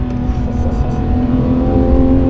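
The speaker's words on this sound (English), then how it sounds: "This is the best sounding gear changes I've ever experienced" A Porsche 911 GT3 RS on an open road gives a loud, close, continuous engine roar that rises through the revs across gear changes, with no talk.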